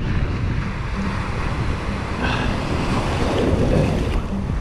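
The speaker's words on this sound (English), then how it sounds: "These are the waves now. It's going to crash like right there" Ocean waves crash and wash ashore at a Bay Area surf spot, a loud, continuous surf roar with wind buffeting the microphone and a swelling break toward the end.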